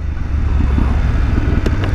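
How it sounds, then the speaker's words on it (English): A BMW F850GSA adventure motorcycle gives a low, rumbling exhaust burble, steady and fairly loud throughout with deep engine pulses, recorded close on the bike. "oh nice little burble from the exhaust that sounded good"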